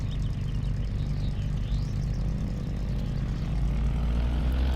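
Seabee aircraft engine in the X-Plane 10 flight simulator, a steady droning propeller hum with a strong low rumble, continuous and even in level throughout, close and unbroken.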